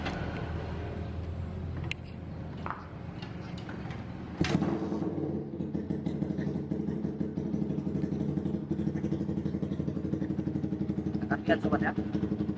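Motorcycle engine running steadily during a radiator coolant leak check, a close, even idle that picks up after a few seconds and continues unbroken, with faint clatter and brief noises over it.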